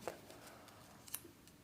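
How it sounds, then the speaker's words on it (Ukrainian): Scissors snip through material in a few quiet, sharp clicks close to the microphone, with two crisp cuts standing out in an otherwise hushed room. "ми беремо ножиці, обрізаємо розкрай"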